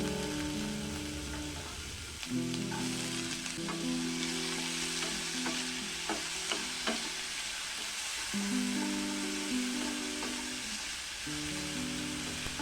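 Thin, small-cut potato slices with chopped green chilli fry over a low flame in a pan, a dense rain-like sizzle carrying on throughout with occasional stirring taps and a steady tonal hum, no voices.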